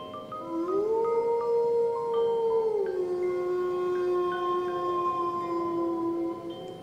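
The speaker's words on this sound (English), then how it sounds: "But who was doing the howling?" A dog howls in one long, loud, sustained wail that rises, holds steady, then dips and carries on as a smooth drawn-out tone, heard alone without talk.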